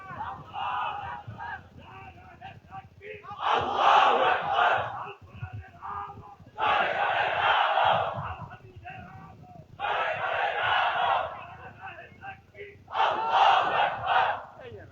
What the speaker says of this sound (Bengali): মুরব্বী উড়িয়ে একটা তাকবীর দেন না, বুড়া মিয়ার একটা তাকবীর